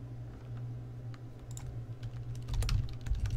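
Typing on a computer keyboard while entering data into a Microsoft Access 2013 form: a run of light, irregular key clicks over a low steady hum, getting a little busier and louder toward the end.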